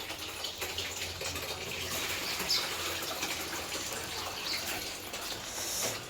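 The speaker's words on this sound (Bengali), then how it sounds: "এই দেখো মা ডাল ধুচ্ছে" Water splashes and swirls steadily as lentils (dal) are rinsed by hand in a village kitchen in the early morning, with faint bird calls in the background and no talking.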